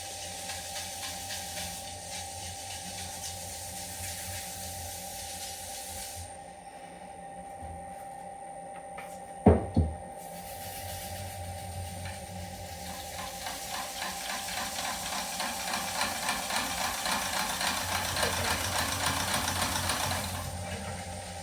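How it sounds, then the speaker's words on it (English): Wood lathe spinning steadily while finish is rubbed onto a pedestal bowl, a continuous whirring drone with a brief thump partway through, fairly close, no talking. "So I'm just going to put a little more on with the lathe spinning."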